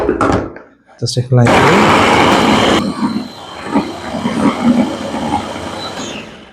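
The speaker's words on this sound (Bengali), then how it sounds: "এবার আদাটা আপনাদের পেস্ট করে দেখাচ্ছি দেখেন" A Shuqin electric food chopper grinds ginger with water into paste, starting with a loud, dense whirring roar that runs about a second and a half, then settles into a rougher, uneven churning; a voice speaks before and during the grinding.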